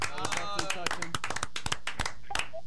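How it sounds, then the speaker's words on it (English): Scattered clapping for a student's poem at a school final show, a handful of sharp, close claps in an uneven rhythm mixed with talking and other voices in the room. "Give her a round of applause"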